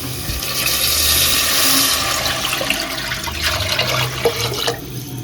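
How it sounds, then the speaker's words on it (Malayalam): Water pours into a cooking pot of rice for chicken biryani, a steady close rush and splash that lasts about five seconds with no voices. "ഇനി നമുക്കിതിലേക്ക് വെള്ളം ചേർത്ത് കൊടുക്കാം"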